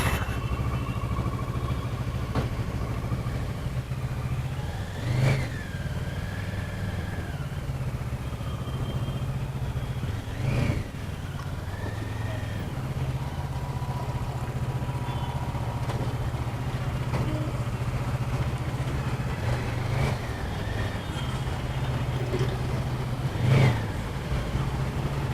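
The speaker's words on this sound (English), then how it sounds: "that's the famous Kawasaki 650 sound." Kawasaki 650 motorcycle engine droning steadily while being ridden, fairly quiet, with a few brief revs and light mechanical clatter breaking through.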